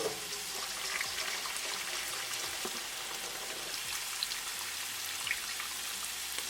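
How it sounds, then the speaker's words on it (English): Hot water drains off cooked pasta for a paneer pasta dish, a steady hissing, splashing pour that runs continuously at even loudness with faint droplet patter. "And now the pasta, I'm going to drain the water."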